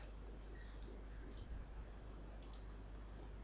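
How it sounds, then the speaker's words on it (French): Faint computer mouse clicks, a few single and double clicks scattered over a quiet steady hum, with no talking. "On ajoute une deuxième charge d'exploitation Q, on clique sur ajoute."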